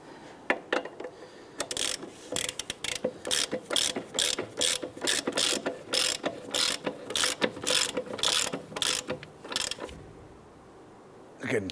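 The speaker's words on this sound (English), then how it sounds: "We're going to go ahead and get our socket on there." A socket ratchet clicks in quick repeated strokes while tightening the upper ball joint nut on a 2011-2021 Jeep Grand Cherokee, loud and close, in steady rhythmic bursts that stop near the end.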